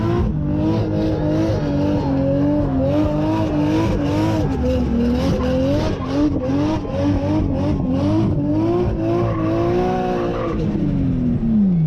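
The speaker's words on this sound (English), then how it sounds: "baking some tires in front of the grandstand" A car doing a burnout in front of a grandstand, its engine roaring loudly and steadily as the tires spin and squeal continuously for the whole stretch, with the engine pitch shifting up and down before dropping at the end.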